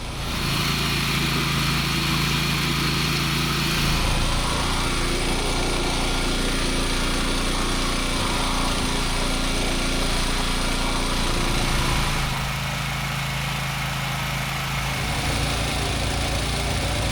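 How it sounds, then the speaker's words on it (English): A BCS walk-behind tractor with a tiller attachment runs steadily on a farm, a close, loud, continuous small-engine drone whose pitch and load shift slightly a couple of times. "the BCS tractor with tiller attachment."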